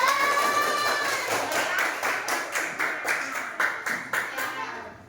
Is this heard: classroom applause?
yes